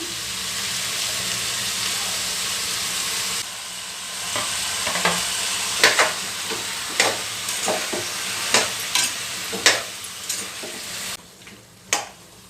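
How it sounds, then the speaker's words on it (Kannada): Chopped tomatoes land in a hot pan of potato and cauliflower curry, a steady frying sizzle that steps up, then a spoon stirs in repeated scraping strokes over the hiss, close, with no talk. "ಈಗ ಟೊಮೆಟೊ ಸೇರಿಸ್ತಾ ಇದ್ದೀನಿ"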